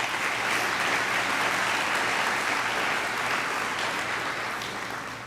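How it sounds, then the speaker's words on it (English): Sustained applause for the school band at a high school commencement ceremony, a dense, loud wash of clapping from a large crowd that holds steady and then begins to fade. "A round of applause for the band tonight."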